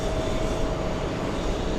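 Aer Lingus flight 104 at JFK airport makes a loud, steady jet engine roar with a faint tonal whine, close and continuous with no talk.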